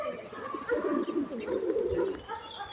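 Konya Arap pigeons coo in soft, rolling murmurs, several overlapping calls close by, with faint rustling in the background.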